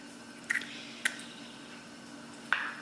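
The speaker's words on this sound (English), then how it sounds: "crack an egg" An egg cracked into a bowl while making pasta sauce, heard as a few brief, sharp cracks and wet squishy drips spaced apart, fairly quiet in a calm kitchen.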